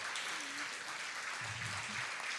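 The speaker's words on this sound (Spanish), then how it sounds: "Damos un aplauso al Señor." A church congregation claps together during a Spanish-language worship service, a steady, fairly quiet patter of many hands that stays constant throughout, with a faint low tone from the room underneath.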